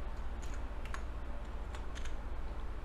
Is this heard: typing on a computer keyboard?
yes